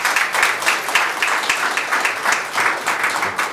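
A crowd at a joint campaign rally in Wonju claps steadily, a loud, close, continuous burst of many hands with a rippling rhythm throughout, no voices over it.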